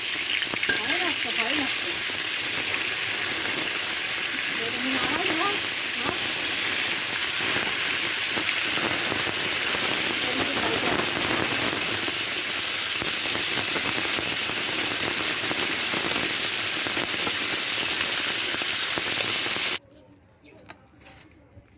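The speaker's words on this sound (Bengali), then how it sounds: "মাছগুলো উল্টাচ্ছি, দেখেন।" Flipped bata fish frying in hot oil in a wok, a dense, loud sizzle with stirring scrapes that runs steadily, then cuts off abruptly near the end, leaving quiet room sound.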